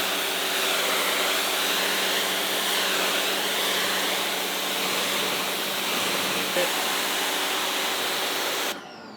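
SunJoe SPX3000 electric pressure washer spraying water, a steady loud hiss and rush with a low motor hum underneath, cutting off sharply near the end.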